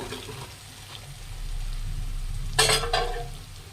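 Raw banana kababs go into a pan for Manchurian, giving a soft low rumble followed by a brief bright sizzle and stirring scrape near the end, close and fairly quiet, with no talking.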